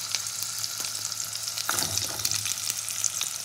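Drumstick (sajna) pieces frying in oil in a pan, a steady close sizzle with a sudden louder crackle as they hit the hot oil.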